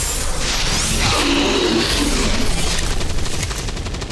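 Weapons blaze in a rapid, continuous barrage during an XCOM 2 firefight, a loud, dense rattle of shots and impacts that runs unbroken throughout with no voices over it.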